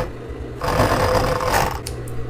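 An overlock serger runs a finishing stitch along the hem of a knit jersey dress, a fast steady whirring burst that starts abruptly, holds for about a second and a half, then stops, heard up close with no talk.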